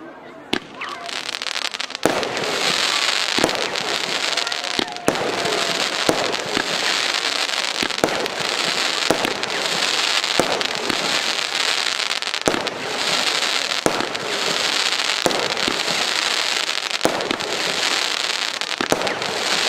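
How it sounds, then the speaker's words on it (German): A Nico Time Rain 13-shot firework battery fires at a fireworks product demonstration in Meißen, a rapid series of booming launches and bursts over continuous crackling, with sharp reports every second or two. "Time Rain, eine 13-Schuss-Batterie, Firma Nico"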